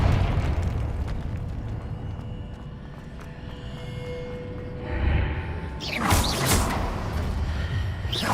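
A Confringo blasting curse in Hogwarts Legacy goes off as a loud, broadband burst near the end, preceded by a softer thump, over a steady rumbling game background.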